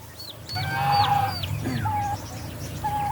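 Turkey chicks chirping and peeping in a busy cluster, high thin calls overlapping continuously at close range with a low clucking undertone.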